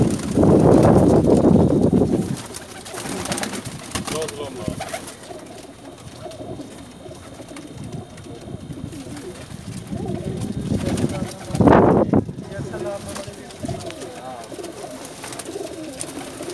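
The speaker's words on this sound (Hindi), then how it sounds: "ये राणा अरशद दे कबूतर हैं जी नुजला यमानिया" Pigeons cooing in soft, low rounded calls, with wing flaps and rustling nearby and some talk in the background.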